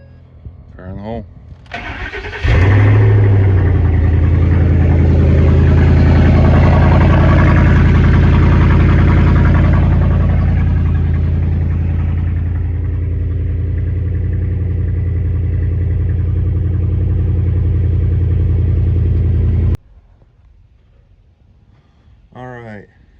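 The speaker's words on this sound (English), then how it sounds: "So I gotta know what this sounds like with no muffler on it." A car engine with the muffler removed cranks, catches and roars loudly at idle for about seventeen seconds, then cuts off abruptly. Brief talk comes before and after.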